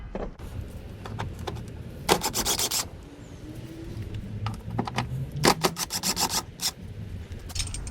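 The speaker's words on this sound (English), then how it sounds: "here I'm using a 10mm socket to remove these two bolts" Ratcheting and rubbing of a 10mm socket backing out two bolts near the air filter housing of an Infiniti G35/G37, in irregular bursts of clicking and scraping, fairly close and with no talk.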